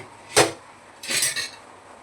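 A metal lid is lifted off a pot of simmering mutton curry, giving two quick clanks: one sharp clink, then a longer scraping rattle, close and clear with no talk.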